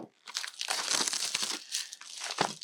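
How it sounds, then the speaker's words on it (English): An X-Acto knife slices and peels cellophane film off a trading card booster box, producing close crinkling and tearing rustles that come in uneven bursts, fairly quiet. "X-Acto knife to cut away the film."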